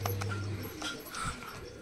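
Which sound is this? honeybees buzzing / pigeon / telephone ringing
pigeon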